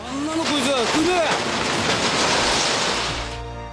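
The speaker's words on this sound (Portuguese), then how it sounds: "ninguém estava preparado para a força do tsunami" Tsunami waves surge through a harbour in Japan as a loud, continuous roar of churning water with rushing broadband noise, while voices cry out over it in the first half before the sound cuts off abruptly.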